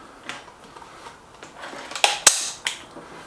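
An SMK XS36 air rifle fires one sharp, close crack, followed by a few lighter metallic clicks and knocks amid quiet handling noise.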